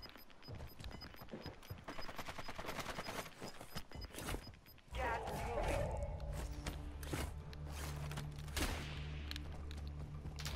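Gunfire in the video game Warzone, with rapid bursts and repeated shots crackling loud and close through the clip, mixed with other game noise and occasional voices.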